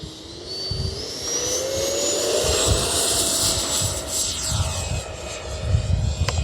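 A Freewing Mirage 2K V2 radio-controlled jet flies overhead in the heat. A steady, loud ducted-fan whine rises and falls in pitch as it passes, over rushing wind noise.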